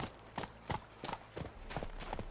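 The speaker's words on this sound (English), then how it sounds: "Oh, you just mounted that horse in the craziest way." Horse hooves clip-clop at a steady walking pace in The Witcher 3, about six clear, evenly spaced strikes at moderate volume with no speech over them.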